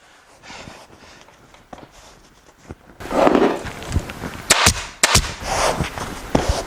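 A staple gun fires sharp, close clacks as it fixes upholstery fabric around a channel-tufted headboard frame, several quick shots in the second half over rustling fabric handling.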